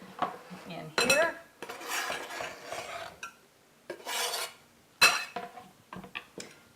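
A spoon stirs and scrapes a chunky tomato and avocado dip around a bowl, a series of loud wet scraping strokes and clinks in bursts with short pauses, up close and with no talking.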